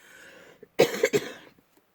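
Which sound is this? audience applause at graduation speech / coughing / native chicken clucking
coughing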